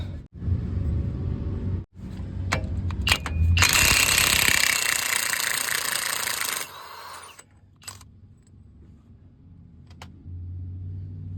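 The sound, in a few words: undoing the axle nut on a Silverado 1500 wheel hub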